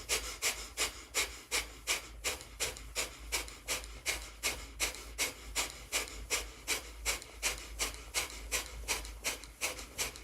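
Breath of fire, the rapid yogic breathing exercise, comes as a fast, even train of sharp nasal exhales, about two each second. They are close and rhythmic, keep going without a break and have no speech over them.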